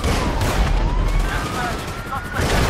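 Heavy booming tank cannon fire in a GTA 5 battle, loud and sustained, with dense rumbling blasts filling the whole stretch.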